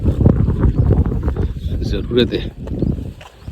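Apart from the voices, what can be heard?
strong cold wind blowing at riverside hut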